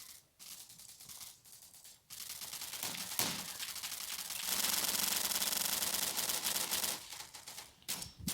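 Gunfire rattles from a first-person shooter video game in a fast, crackling burst of shots, starting in short broken spurts and then building into a continuous dense volley, fairly faint overall.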